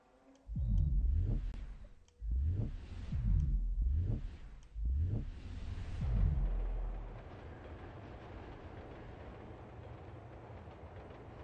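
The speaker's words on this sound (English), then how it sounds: "That's one of them trains." A train in The Crew 2 rolls past with a run of heavy, rhythmic rumbling thumps in grouped bursts that come close, then fade into a faint, distant wash.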